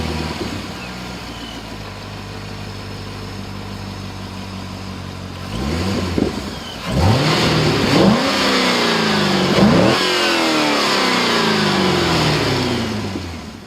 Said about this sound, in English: Now start up the car.